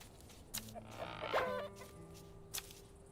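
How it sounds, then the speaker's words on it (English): Chickens cluck in the farm survival video game Mr. Prepper: a few short, nasal clucks and one louder squawk over a soft, steady game music bed, with no talking. "We can collect from the chickens, too."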